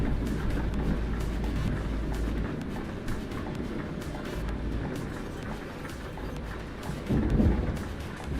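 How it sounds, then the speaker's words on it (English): Low rumbling thunder rolls continuously beneath steady rain in Euro Truck Simulator 2, with a deeper swell of rumble near the end. "I've never heard this much thunder playing Euro Truck."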